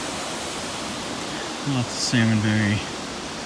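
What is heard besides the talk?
waterfall on Plympton Creek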